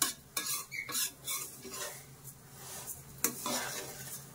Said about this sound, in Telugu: సిమ్ మీదే పెట్టి సేమియా అనేది ఫ్రై చేసుకోవాలండి.